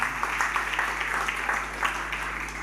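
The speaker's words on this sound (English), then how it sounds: "Let's clap hands, please." An audience at a sports awards ceremony applauds, a dense, steady patter of many hands clapping with a low hum underneath.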